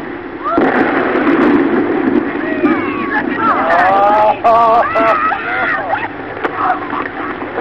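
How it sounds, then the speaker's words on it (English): Dynamite blasting a beached whale apart on a shore: a sudden heavy boom and rumble, followed by pattering debris and excited voices and shouts under a steady outdoor roar. "the blast blasted blubber beyond all believable bounds"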